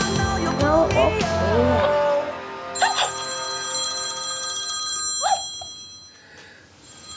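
A phone ringtone chimes with bright sustained electronic tones, following a short burst of voice-like sounds at the start, then repeating before fading.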